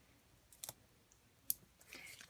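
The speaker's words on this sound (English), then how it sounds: "And let me snip this." Scissors snip paper-craft card stock for a handmade stamped project: a few sharp, quiet clicks and snips spaced apart, close and isolated in an otherwise hushed room.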